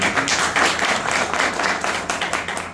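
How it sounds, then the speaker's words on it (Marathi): Audience applause at a dandiya competition prize distribution in Mandrem, Goa: dense, steady clapping from a crowd for a few seconds, with no voices over it. "आमचे प्रिय मित्र श्री पराग पारसेकर एक बार जोरदार टाळ्या देतात"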